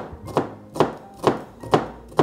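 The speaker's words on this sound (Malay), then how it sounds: "Sekarang ni saya akan potong kita punya bawang merah." A knife chops shallots on a cutting board in a steady rhythm, five crisp close knocks spaced about half a second apart.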